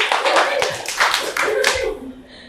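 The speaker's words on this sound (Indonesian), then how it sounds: "Tepuk tangan buat Jasmine." An audience claps for Jasmine at an Indonesian talk show, with a short burst of close, lively applause and voices mixed in, fading out after about two seconds.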